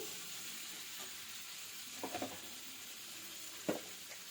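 Onions stirred into a drumstick leaf tomato chutney in a pan, giving a soft, steady sizzle with a few brief scraping stirs around the middle and one near the end.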